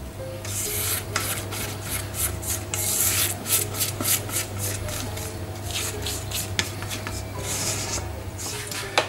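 Sweet potato cake batter mixed with sugar and eggs: a rhythmic series of wet, scraping strokes close up, with repeated rubbing swishes of the utensil through thick mash, heard alone.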